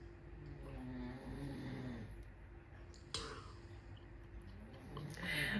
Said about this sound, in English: my husband is snoring